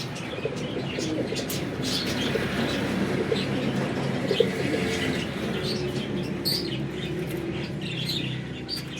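Pigeons coo softly and repeatedly amid a busy background of chirps and occasional wing flutters, with no talking.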